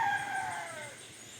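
A rooster crows once, a loud, drawn-out call that tapers off over a quiet, steady background.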